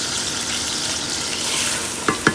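Sausage and onions sizzle loudly and steadily in a pan as regular white rice goes in for Southern dirty rice, with two quick scraping stirs near the end of the clip.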